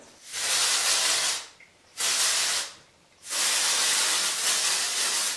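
Three long bursts of Oribe hairspray hissing up close, each lasting about a second or more, separated by short pauses.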